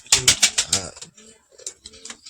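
Pigeons in a home loft in Barasat, including a white-winged, white-tailed bird, give a short burst of sharp taps and a low cooing call, followed by quieter scattered fluttering and soft sounds nearby.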